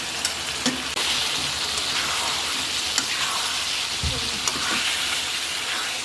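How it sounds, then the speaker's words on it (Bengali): Boiled potatoes added to a spice mix frying in a pan, giving a steady, moderate sizzle with occasional soft clunks and stirring scrapes, no voices. "সিদ্ধ আলুটা আমি এর ভিতরে দিয়ে দিচ্ছি"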